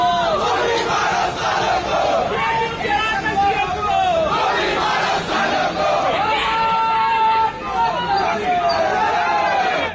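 A large protest crowd over the UGC regulations shouts slogans together, loud overlapping voices rising in rhythmic chants with babble underneath, sustained and close throughout.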